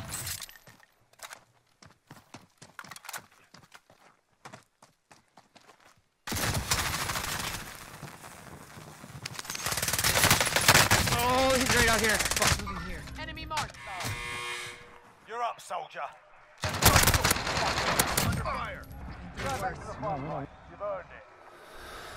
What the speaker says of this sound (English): I didn't know I could shoot through the one wall in the gulag.